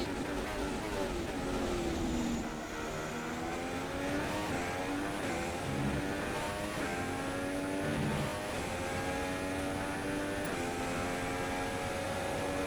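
Formula One race car engines during qualifying at the German Grand Prix in the F1 2016 video game, a loud continuous high whine with shifting pitch as cars run and rev, steady throughout.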